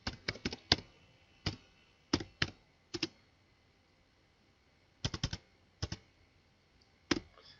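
Letters are typed on a computer keyboard in quick clusters of sharp, close clicks separated by short pauses, with no talking.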